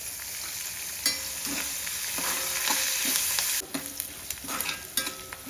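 Finely chopped curry leaves fry in a pan for temple-style ven pongal, giving a steady bright sizzle with scraping stirs and a few sharp crackles.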